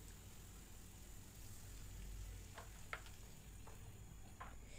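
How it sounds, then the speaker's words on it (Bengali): Onions and garlic stir-fried in a pan for a Bengali fish curry, with a steady soft sizzle and a few spatula scrapes and clicks. "লবণ দিয়ে আবার আমি 1 মিনিটের মতো ভালো করে নেড়েচেড়ে কষিয়ে নিচ্ছি পেঁয়াজ, রসুনগুলো হালকা নরম হয়ে যাওয়ার জন্য"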